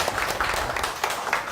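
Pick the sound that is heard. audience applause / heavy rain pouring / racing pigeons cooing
audience applause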